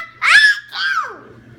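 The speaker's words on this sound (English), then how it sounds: "That was a big sneeze." A child's sneeze, two bursts in quick succession, close and loud, the second softer and trailing off.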